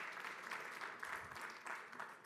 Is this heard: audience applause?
yes